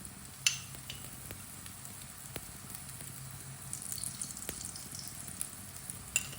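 Methi paratha fries in oil on a pan with a continuous close sizzle and crackle and occasional sharper pops, moderately loud and without talk.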